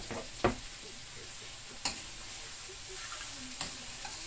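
Perch frying in a pan for brown stew fish, a steady soft sizzle with a few sharp clicks and pops standing out now and then.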